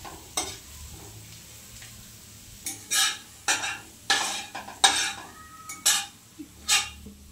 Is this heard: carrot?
yes